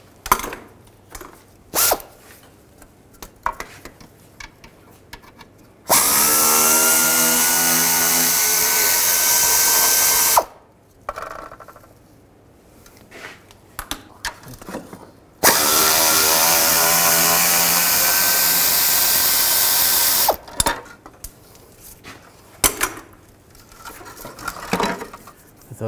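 Two bursts of about four to five seconds each from a power tool spinning a 10 millimeter socket as it removes bolts on a 2010-2017 Chevrolet Equinox during water pump replacement, loud and steady, separated by quieter clicks and handling noise.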